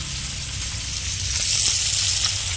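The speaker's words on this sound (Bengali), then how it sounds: "এখন এই মাছগুলো ভাজা হচ্ছে" Fish fry in hot oil with a steady, dense sizzle that holds evenly and close throughout.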